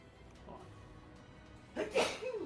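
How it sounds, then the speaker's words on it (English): A single sneeze bursts out near the end, loud and close, after a stretch of quiet background hum with faint murmuring. "Gesundheit."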